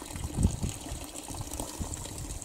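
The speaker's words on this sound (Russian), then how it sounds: "это родники так бьют." Spring water gushing through the boards of a camp pond dam, a close, steady splashing and burbling flow with a few heavier surges.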